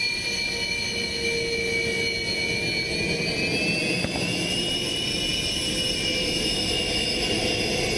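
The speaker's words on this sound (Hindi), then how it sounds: "और विमान उड़ान भरने के लिए आप देख सकते हैं कि निकल पड़ा है।" A Sukhoi fighter jet sets off for takeoff at Tejpur Air Force Station in Assam, its engine giving a loud, steady roar with a high whine that rises slowly in pitch throughout, with no voices.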